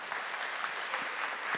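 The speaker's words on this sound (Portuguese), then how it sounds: "Uma salva de palmas para Nossa Senhora." Steady applause from a congregation during a Catholic sermon, dense and continuous clapping for the whole stretch with no voices above it.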